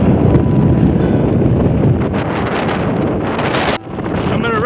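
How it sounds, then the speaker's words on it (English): Strong wind buffets the microphone on the summit of Enchanted Rock in Texas, a loud, gusty roar that eases slightly partway through. "It's really windy up here."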